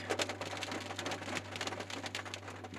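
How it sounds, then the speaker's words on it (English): Steady rain patters on a hard surface in the Porcupine Mountains, Michigan, with irregular drops tapping close by over a low constant hum. "It started raining"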